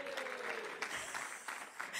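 An audience at a healthy-living wellbeing session cheers and claps for push-ups, a continuous wash of applause heard at a moderate distance with voices mixed into the noise.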